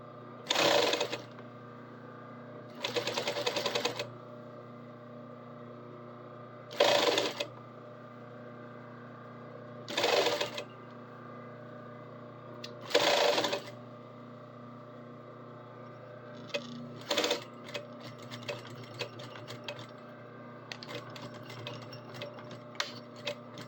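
A serger sewing machine stitches fabric for a collar in five short whirring bursts separated by pauses, close and fairly quiet, followed by soft handling clicks.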